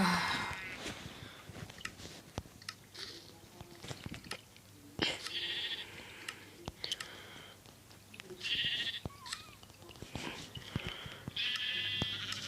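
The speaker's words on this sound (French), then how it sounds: "Oh oui, un mouton." Sheep in the Minecraft video game bleat several times in short, wavering cries spaced a few seconds apart, with clicks and game noises in between.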